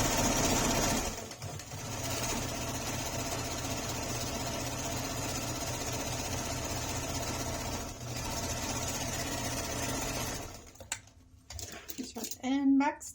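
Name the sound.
sewing machine stitching a quarter-inch seam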